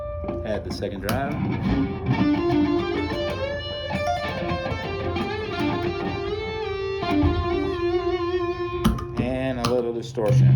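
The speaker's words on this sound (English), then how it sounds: "Add the second drive." Electric guitar played on the neck pickup through a second MXR drive pedal with a touch of echo, sustained overdriven notes and chords ringing loud and steady for several seconds.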